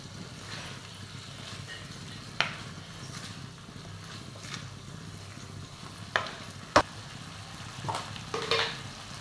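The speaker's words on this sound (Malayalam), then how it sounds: "നന്നായി മിക്സ് ചെയ്യാം" Egg roast in a spicy masala gets stirred in a pan, a low steady sizzle under scattered spatula scrapes and a few sharp metallic clinks, close and fairly quiet.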